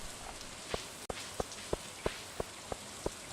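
Rain falls in the Stardew Valley game as a soft background hiss, broken by a steady series of about ten evenly spaced light taps.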